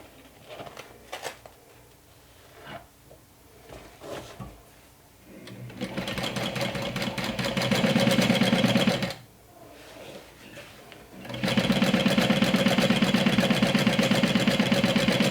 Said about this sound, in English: And you want to sew this down with a 1/2 inch seam allowance.